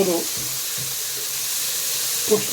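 Carrots and onions sizzle gently in a pot for a military bean stew, a soft steady hiss close by with a few brief clinks and stirring sounds, and a voice briefly at the edges.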